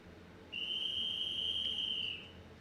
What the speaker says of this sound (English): So now it is just down to the whistle blast and the go-ahead.